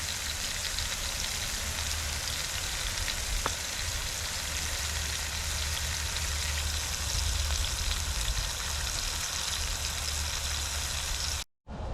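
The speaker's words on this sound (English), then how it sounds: "I'm going to sear all sides of it" Rib roast searing in a cast iron Dutch oven over a campfire, a continuous close crackling sizzle with occasional pops, ending abruptly.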